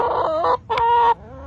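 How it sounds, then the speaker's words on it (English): Chickens clucking up close in a coop, a couple of loud bursts of harmonic calls separated by a brief pause, with no talk over them. "Just a bunch of chickens in here?"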